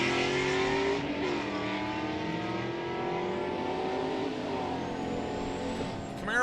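A 2001 Camaro and a Dodge Dart Sport drag race at a Sick Week event, with engines roaring and revving at a distance under steady crowd and track ambience, and pitch rising and falling as the cars accelerate.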